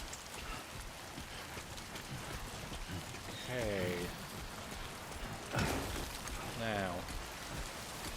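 Steady rain pours throughout in the video game Death Stranding 2, a constant even hiss with a person speaking briefly over it.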